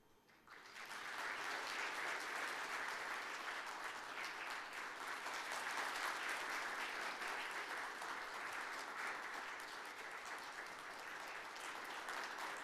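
A large audience at an award ceremony applauds in a sustained, dense wash of clapping. It swells quickly after a brief quiet start and holds steady and loud, with no voices on top.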